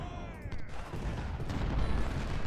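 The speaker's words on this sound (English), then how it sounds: "Cannons are flying across this field." Dense musket volleys and cannon fire in a Civil War battle in the video game Ultimate General: Civil War, a continuous loud rumble of overlapping shots and booms across an open field.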